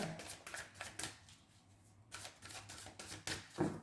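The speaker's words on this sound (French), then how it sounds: "on va faire déjà la coupe" Tarot cards cut and riffled by hand, a run of crisp, rapid papery flutters and snaps close up, with a brief lull before the shuffling resumes and a sharp tap near the end.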